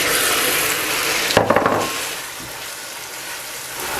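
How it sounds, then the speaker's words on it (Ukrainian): Mushrooms hit a pan of frying onion and garlic, a loud steady sizzle with a brief clatter and stir as they go in, then a quieter continuing fry. "І тепер можна додавати сюди вже грибочки, бо цибулька і часник вже добре підсмажились."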